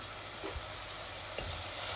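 Vegetables fry in a pan with a steady, dense sizzle and a couple of soft stirring knocks, close by and with no talking.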